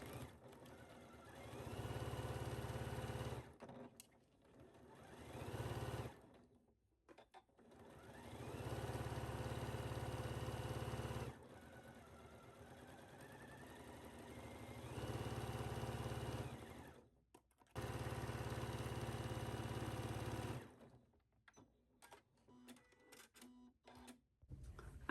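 A home sewing machine stay-stitches pattern pieces for a McCalls M8516 garment in several bursts, each a steady whirring hum of rapid stitching lasting a few seconds, separated by brief pauses and small handling clicks, close up with no voices.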